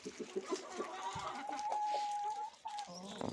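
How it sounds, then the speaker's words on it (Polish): Chickens cluck and murmur close by as they eat cabbage and apple, a busy overlapping chatter with a rooster-like call rising above, and a few soft knocks underneath. "Także karmimy sobie kury i lecimy dalej."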